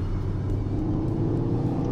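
A Toyota Etios XS 1.5 car engine running after being started, a low, even rumbling hum heard close and steady throughout.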